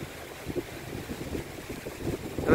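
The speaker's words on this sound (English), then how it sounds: "Look at this wind. Very windy conditions." Heavy gusts of wind batter the microphone outdoors, a loud low rumble pulsing in uneven surges and growing strongest at the end, without any talking.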